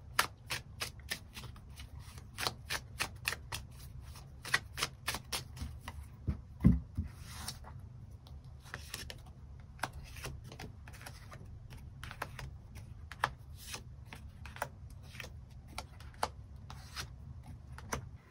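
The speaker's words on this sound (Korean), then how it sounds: "추가 카드 뽑아보도록 하겠습니다" Tarot cards being shuffled and drawn, a steady run of quick, crisp papery flicks and riffles at close range with no talking, going on throughout.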